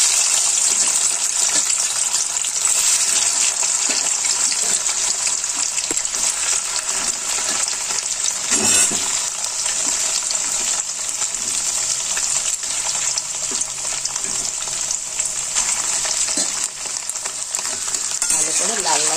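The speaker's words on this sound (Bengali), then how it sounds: "আর এখানে তেল গরম হয়ে গেছে, এবার পনিরগুলো দিয়ে ভেজে নেব" Paneer pieces frying in hot oil for paneer curry, a loud, constant, hissing sizzle close by that stays even throughout with occasional small crackles and no speech.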